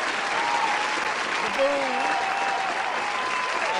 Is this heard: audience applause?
yes